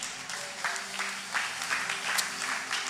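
A church congregation claps and acclaims the Lord, with bursts of clapping and some cheering voices rising and falling over a few seconds at moderate distance.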